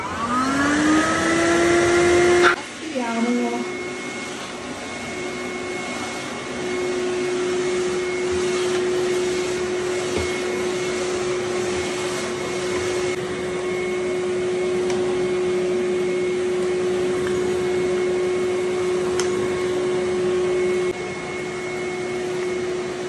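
A Hyla vacuum cleaner with a small brush attachment fitted, switched on to rise into a loud, steady motor whine and airflow hum that runs on unbroken.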